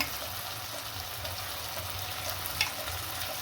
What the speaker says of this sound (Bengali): রসুন বাটা দিলাম দিয়ে এটাকে খুব ভালো করে কষিয়ে নেবো